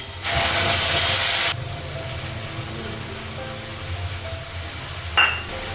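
Whole cumin, black cumin, green and dried chillies and ground spice paste hit hot oil in a pan for a Bengali rui fish curry, giving a loud burst of sizzling that settles into a steady, quieter frying hiss.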